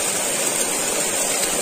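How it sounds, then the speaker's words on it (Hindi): Rushing water from a flooded drain during heavy rain in a hillside village, a steady, loud broadband roar with no pauses and no voices over it. "देखिए पूरा नाला आ गया है"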